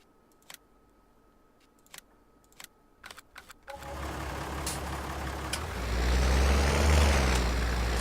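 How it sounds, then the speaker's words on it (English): A tractor engine in Farming Simulator 19 starts after a few quiet key clicks, settling into a loud, steady low rumble that swells further as it revs up. "Wow, this tractor is loud."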